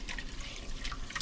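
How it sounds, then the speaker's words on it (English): Running tap water rinses food through a sieve in a home kitchen during paneer curry meal prep, a faint steady splashing and trickling close by. "I'll just kind of put it through the sieve and let it kind of rinse off a bit."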